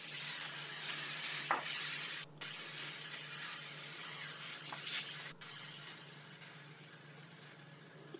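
Rice stir-fried in a pan with broth and white wine gives a continuous, moderate sizzle. Scattered soft scrapes and stirring scuffs sit on top.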